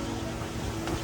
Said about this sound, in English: The wind has picked up again